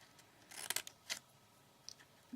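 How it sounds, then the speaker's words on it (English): Scissors cutting paper shapes for a craft, a few quick close snips and crisp paper rustles in a very quiet room, then silence. "You want to cut away the 2 oblongs."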